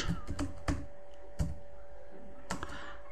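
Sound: typing a profile title on a computer keyboard

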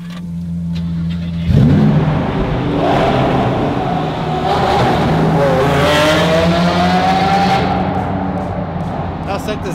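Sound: V12 engine revving

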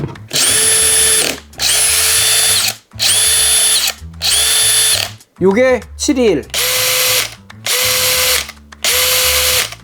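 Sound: cordless impact driver running

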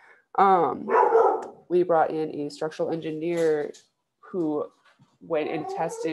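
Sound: dog barking

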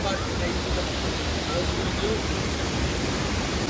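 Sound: flowing water near a waterfall

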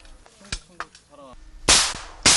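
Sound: live gunfire from rifles during military training

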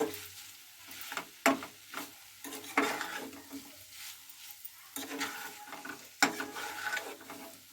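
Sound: stirring minced meat (keema) with potatoes in a pan

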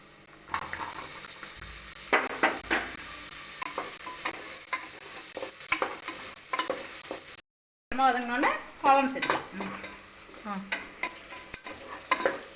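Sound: onion, ginger and garlic sautéing in a pan

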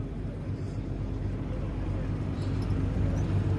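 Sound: combine harvester with corn header running

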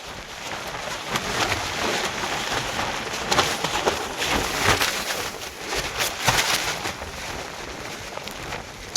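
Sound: rain falling on onion field

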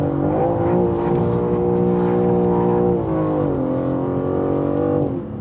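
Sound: BMW M3 Competition engine revving while drifting

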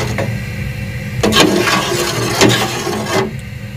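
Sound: pouring yakhni broth into rice pot

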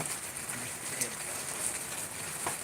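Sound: rain

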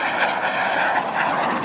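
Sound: Aermacchi MB-339 jet trainer flying a turn at Dubai Airshow

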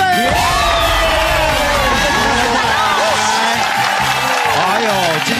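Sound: audience applause on a TV show

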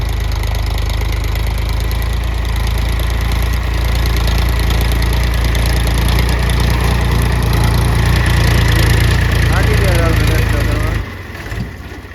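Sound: tractor engine running a rotavator in field

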